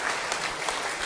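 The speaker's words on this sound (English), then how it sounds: "I want to suggest that you give yourself some applause just for being here" A seated audience at a political convention in Signal Hill, Tobago claps steadily, dense even applause filling the room without a break.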